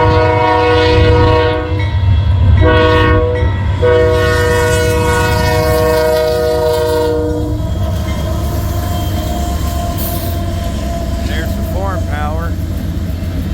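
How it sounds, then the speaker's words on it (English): Eastbound freight manifest train led by several SD70M locomotives passes near a snowy trackside at the start of a blizzard, with loud sustained horn blasts in the opening seconds, then steady rumbling wagons and brief wheel squeal later on. "this is an eastbound manifest that went by"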